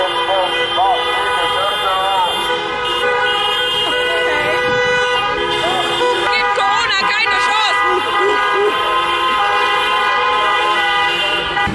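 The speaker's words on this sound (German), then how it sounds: "Das ist jetzt hier eine Demonstration in dieser Art und Weise, dass sie alle hupen" Car horns honk again and again at a Corona protest in Limburg, several drivers sounding long overlapping blasts together, loud and near, while someone talks over them.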